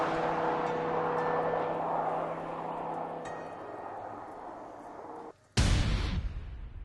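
A 2013 Audi R8 V10 Plus with S tronic gearbox drones steadily at first, then after a brief dip bursts into a loud, full-throated roar that slowly fades.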